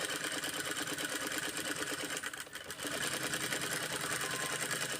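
A sewing machine runs a continuous bias finishing stitch along the edge of a piece of fabric, a steady, close, rapid whir with one brief dip in the middle and no voices.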